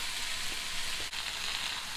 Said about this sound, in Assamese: আলু আৰু বেতগাজ দুইখিনি একেলগতে দি দিছোঁ। খুব কম জুইত ভাজি থাকিব লাগিব